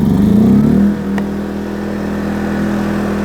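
A Yamaha EF2200is inverter generator hums steadily nearby with economy mode off, a brief higher rev at the start settling into an even, continuous drone.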